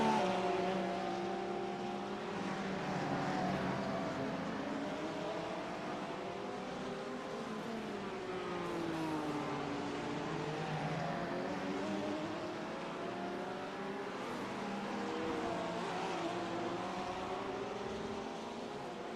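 Race car engines in the iRacing sim during a 12-hour endurance race at Sebring, a Porsche among them, droning steadily with wavering pitch as cars jostle in traffic, moderately quiet and continuous with no voices.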